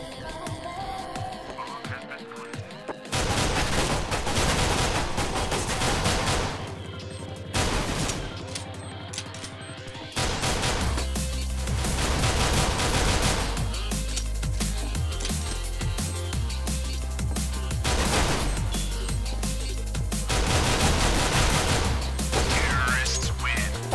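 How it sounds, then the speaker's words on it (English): P250 pistol shots fired on the Mirage map in CS:GO, a rapid series of sharp gunshot cracks in bursts, heard over loud background music. "In third place is Rally Baby, playing on the map Mirage with a P250 in hand. He manages to connect multiple shots"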